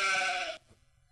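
A sheep bleats once, loud and close, a harmonic cry lasting about half a second before cutting off into near silence.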